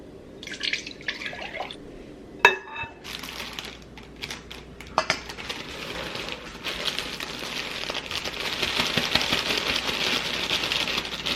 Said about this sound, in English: we're going to mix 2 cups of milk with the Red Lobster cheddar biscuit mix